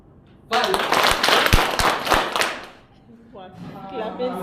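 A roomful of trainees clapping in an energizer exercise, a dense close burst of sharp claps lasting about two seconds before fading, followed by voices talking.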